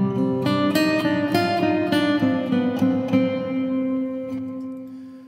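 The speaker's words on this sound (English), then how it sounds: "A hall sounds like this from the Space Designer." Warm hall reverb from Space Designer with a 3.4-second decay on a plucked melodic line, notes blurring together and a long smooth tail trailing off at the end, played alone without speech.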